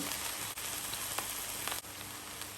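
Steady, close hiss of garlic paste and spices frying lightly in a pan for olive pickle, an even sizzle that continues unbroken with a few faint clicks.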